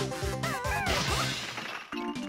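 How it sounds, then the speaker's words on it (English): An egg shatters in the video game Banjo-Kazooie, with a sharp crashing smash over bouncy game music and a brief lull near the end. "And egg that I'm shattering again and again."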